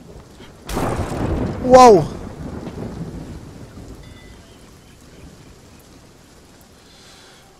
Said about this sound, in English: it's storming out there pretty badly